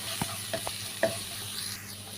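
Curry leaves drop into oil where shallots and dried chillies are already frying, a faint steady sizzle broken by a few soft stirring knocks, close and quiet, no talking.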